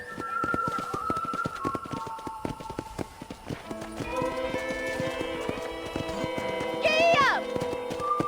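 Horse hooves clip-clop in the Western video game Red Dead Redemption, a quick regular trot of sharp close hoofbeats over background music, with a brief whinny-like rise near the end.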